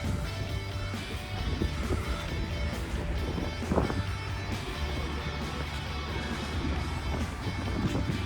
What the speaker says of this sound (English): And you can hear the wind now.